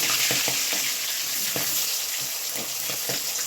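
Katla fish fries in hot mustard oil in a pan, a steady close sizzle broken by sharp pops and crackles spaced through the pan's hiss, with no talking.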